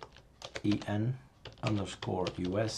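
Someone types on a computer keyboard while configuring the locale in Arch Linux, a quick clatter of keys running under a person speaking.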